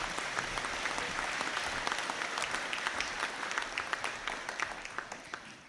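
Applause from the audience at a graduation conferring ceremony, a steady dense round of clapping from a large hall crowd that slowly thins toward the end.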